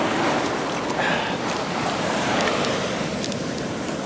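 Ocean water surges into a parking lot, giving a broad, continuous rushing wash of surf mixed with wind buffeting the microphone and a few sharp splashes, with no talking.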